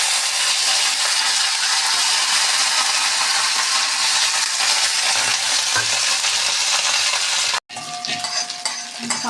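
Chopped brinjal fries in oil with mustard seeds, fenugreek and curry leaves for sambar, a loud, continuous sizzle filling the pan up close. It cuts off briefly near the end and resumes with light stirring clatter.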